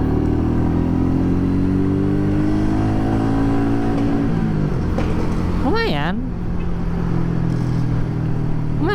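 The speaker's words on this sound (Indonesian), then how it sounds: "Gigi 2 lari 40-50 kita tarik." Royal Enfield Meteor 350 motorcycle pulling in second gear, its engine note rising steadily with road and wind noise close by, while a rider's voice speaks over it briefly near the middle.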